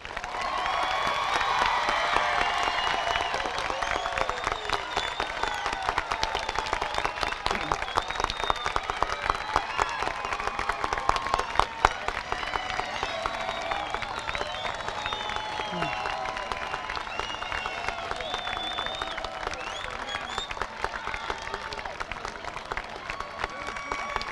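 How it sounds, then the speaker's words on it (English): A large crowd at a 2015 BHS high school graduation ceremony applauds the class of 2015, sustained dense clapping with scattered cheers and whoops rolling on for over twenty seconds, with voices mixed in. "Ladies and gentlemen, please applaud the class of 2015."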